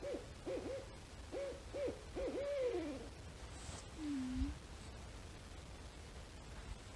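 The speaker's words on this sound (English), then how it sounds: "We just watched this owl land in a tree right outside of camp." Owl perched in a tree right outside a campsite in the Catskills hoots repeatedly in short wavering calls, then gives one lower drawn-out note, over steady soft outdoor hiss.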